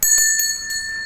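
Notification bell sound effect, a bright ringing chime struck a few times in quick succession, clear and close with sustained high ringing tones.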